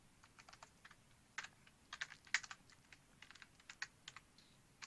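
Quick, irregular clicks of keys on a computer keyboard while HTML code is entered, faint and close, in short bursts with brief pauses and no speech.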